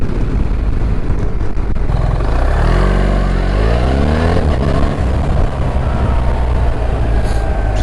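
BMW R1300GS motorcycle accelerating on a test ride, a loud, close engine roar rising in pitch through the gears beneath heavy wind noise.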